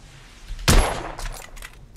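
A Mosin rifle fires in The Order 1886 video game: one loud, sharp shot with a ringing tail, followed by softer mechanical noises and a brief crisp click at the end.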